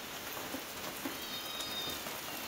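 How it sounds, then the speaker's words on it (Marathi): Steady rain falls on a veranda, a soft, even hiss of drops pattering on the surface throughout, fairly quiet, with no voices. "पाऊस आल्यावर. सगळा वरांडा वाला होतोय"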